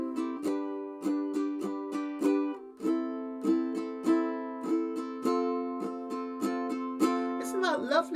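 Ukulele strummed with changing chords across the measures, a steady rhythmic run of bright plucked strokes with accents varying bar to bar, played alone and close up.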